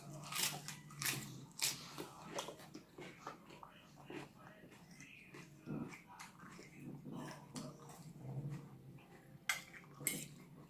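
Close chewing and slurping of a spicy Thai khanom jeen noodle salad with fermented fish sauce and northern sausage, mixed with cutlery clinks and intermittent talk throughout.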